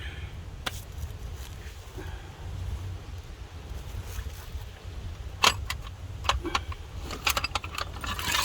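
Someone rummages through a pile of tools for a 10mm socket while working on a 2000 Chevy Monte Carlo window regulator: scattered metallic clinks and rattles, sparse at first and then busier, over a steady low background rumble.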